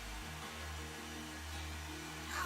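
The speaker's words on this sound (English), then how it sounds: "Hairdryer dries it way faster than trying to wait for it to dry" A hairdryer blows steadily to dry layers of latex for a special-effects makeup wound, giving a constant close whirring hum that runs uninterrupted throughout.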